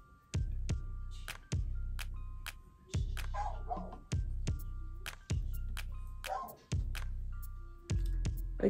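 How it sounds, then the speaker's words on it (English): Dogs bark in the background of an indoor home hair-toning session, a steady run of loud, evenly spaced barks about once a second, close enough to dominate the scene with no talk over them. "sorry if you guys can hear my dogs barking in the background."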